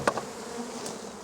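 Crowded honeybees at a hive buzz close to the ear in a short burst, with a few sharp louder passes of bees flying near.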